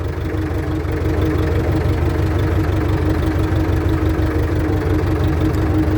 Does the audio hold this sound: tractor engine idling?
yes